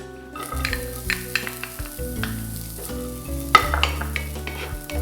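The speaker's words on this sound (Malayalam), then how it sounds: "ഓയിൽ ചൂടായി കഴിയുമ്പോഴത്തേക്കും നമുക്ക് എടുത്തു വെച്ചിരിക്കുന്ന സവാള ഒന്ന് ചെറുതായിട്ടൊന്ന് വഴറ്റി കൊടുക്കാം" Onions sauté in hot oil with a close, crackling sizzle, punctuated by clinks and scrapes of stirring and a low background hum. No one speaks.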